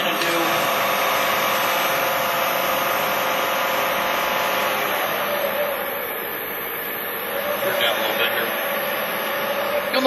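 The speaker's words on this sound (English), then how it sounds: "my spindle speed currently is running at 920 RPMs" A Westlake Series 1 CNC knee mill runs its spindle at 920 RPM with a steady, close machine drone and a high whine, constant throughout, with a faint voice underneath.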